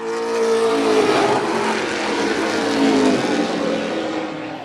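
Pro Stock race cars roar around a short track in a late-lap battle, engines droning loudly and steadily with rising and falling pitch as the pack passes by, with no talk.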